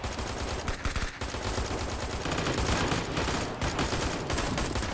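Dense, rapid FAMAS rifle fire in a first-person shooter video game, loud and nearly continuous with short gaps between bursts and no talking over it.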